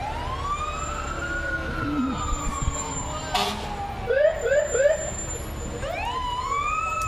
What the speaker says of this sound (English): I wonder how it is inside the fire trucks when the sirens are going.